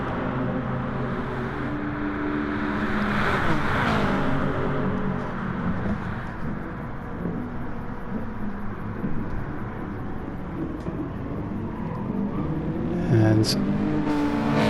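Touring cars race at Monza in an online racing game, with steady loud engine roar and revving throughout. A commentator talks over it.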